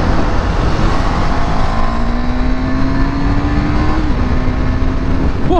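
A BS6 KTM Duke 390 motorcycle pulls away hard, its engine note climbing steadily in pitch with a brief shift near the end, loud and close, with no talk over it.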